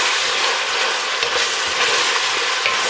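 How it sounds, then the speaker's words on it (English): Bacon and onion frying in a pan, a loud, dense, continuous sizzle heard close up with no voices. "that's gonna kind of sweat down as the bacon's cooking in there too"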